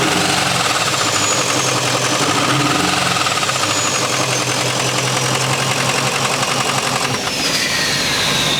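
A Ford 6.0 diesel truck engine with a failing, badly knocking engine revs steadily with a heavy, rhythmic knocking clatter throughout, loud and close.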